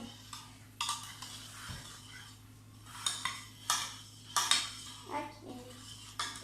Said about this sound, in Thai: คนผสมให้คนสมผสมให้เข้ากัน